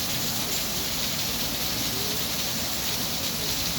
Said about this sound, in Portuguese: Tá chovendo muito agora.